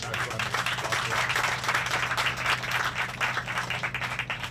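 Sustained applause from a crowd at a groundbreaking ceremony honoring a state senator, steady dense clapping at moderate loudness lasting several seconds with no voices standing out.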